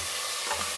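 Tomato going into a hot tempering of mustard seeds and onion for sambar, giving a steady, close hiss of sizzling oil with a faint stir midway.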